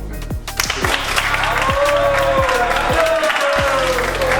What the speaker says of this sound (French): on nous a tous applaudi et félicité pour notre sélection